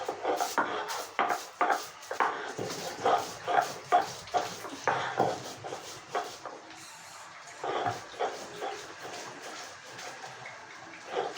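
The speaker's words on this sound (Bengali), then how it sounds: "আমি এটা বেটে দেবো" Dried fish (shutki) ground by hand on a grinding stone, a steady run of rhythmic scraping and knocking strokes that slows and fades toward the end, close and moderately loud.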